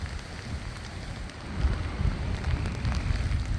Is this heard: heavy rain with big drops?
yes